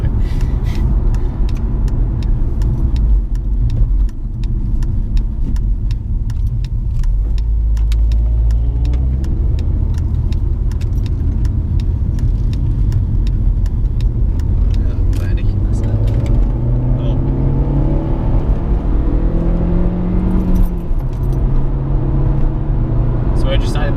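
An MK4 Volkswagen Golf GTI Anniversary accelerates hard up a hill, its engine droning and rising in pitch through the gears with steady road rumble, while people talk inside the car throughout.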